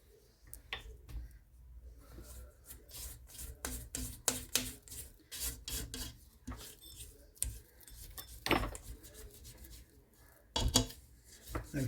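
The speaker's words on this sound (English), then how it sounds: "scrape the sides real quick" A spatula scrapes around the sides of a mixing bowl of pizza dough for a stuffed crust pizza, giving a run of close, uneven scraping and rubbing strokes with a few sharper knocks.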